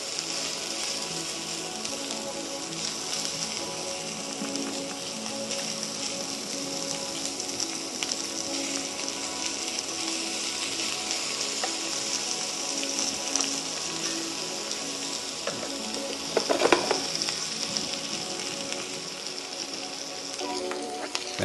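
Butter melting in a hot pan beside charred shrimp, a continuous soft sizzle and crackle with a few louder spatters near the end.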